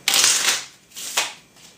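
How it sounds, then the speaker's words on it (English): Ticket to Ride train cards are shuffled by hand, two quick riffling bursts close to the microphone, the first longer and the second shorter, with no talk. "take the discard pile, shuffle it in with the draw deck"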